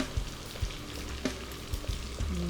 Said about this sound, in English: Now we can start frying. Make sure the oil is hot, very hot.